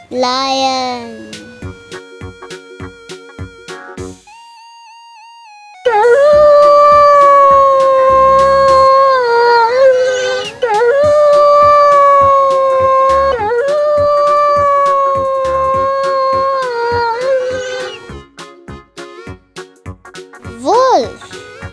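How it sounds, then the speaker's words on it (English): A wolf gives long, sustained howls that rise and waver, loud and close, over a bouncy children's music backing, with a brief spoken word near the end. "Wolf."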